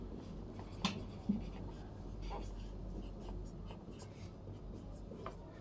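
Pen writing on paper while an accounting hire-purchase journal entry is explained, faint soft scratching strokes under a low room hum, with a couple of brief taps.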